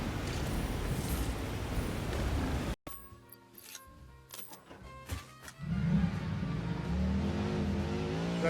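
In a video game, a vehicle's engine rumbles and revs, drops out abruptly, gives way to light clicks and ticks, then surges back with a loud, low drone.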